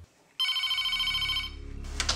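A telephone rings with one long electronic bell burst of about a second, followed by a lower buzzing tail and some clatter, close and clear in a quiet room.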